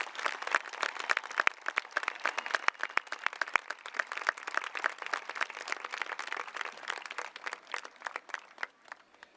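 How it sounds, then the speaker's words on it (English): An audience at the Dearborn High School 2023 commencement applauds staff and honored guests, a sustained patter of many hands clapping that sounds somewhat distant and moderately soft, with no talking over it. "let's give all of our staff and honored guests a round of applause"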